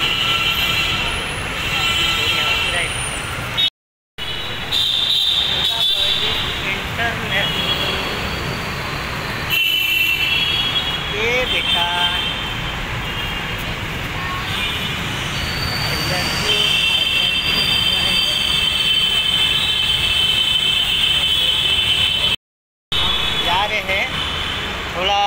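Steady rumbling and whine of a Nagpur Metro train running, with rail noise and a high electric tone throughout, and occasional voices in the background.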